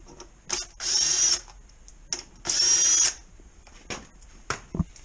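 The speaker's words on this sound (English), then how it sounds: "my drill." A small power drill backing out 10mm screws on a buggy, two sustained whirring bursts of about half a second each, with clicks and handling clatter between them, close up.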